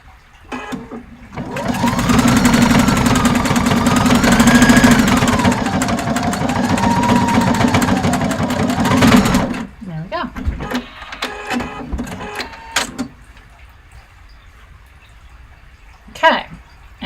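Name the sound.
sewing machine sewing on a dress zipper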